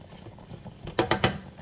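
Mediterranean chicken stirred in a hot pan: quiet bubbling, then three quick scraping strokes close by, with faint murmuring underneath.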